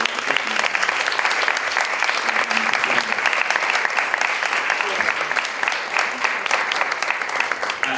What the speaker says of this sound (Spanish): quería pedir un aplauso para las tres,